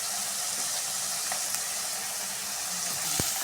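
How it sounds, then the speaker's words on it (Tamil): Onions sauté in hot oil with dried chillies and bay leaf, an even, hissing sizzle close by with an occasional soft tick from the pan. "அதை நல்லா காஞ்ச மிளகாய் பிரியாணி இலையோடு வதக்கி விட்டுக்கலாம்."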